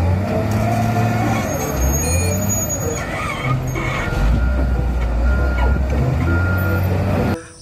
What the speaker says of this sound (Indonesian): yang ini mobil wheel loader teman-teman